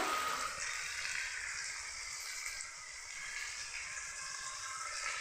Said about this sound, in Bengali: এইভাবে কিছুক্ষণের জন্য কষে নেব